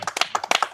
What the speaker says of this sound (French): il faut quand même l'applaudir